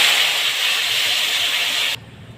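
Water hitting a hot pan of bottle gourd curry gives a loud, steady steam hiss for about two seconds, then cuts off abruptly to a low simmer.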